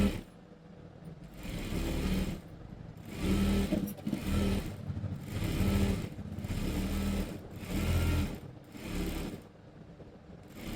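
Sewing machine stitching a seam on a school uniform pant, running close and steady in repeated rhythmic bursts with brief slowdowns between runs.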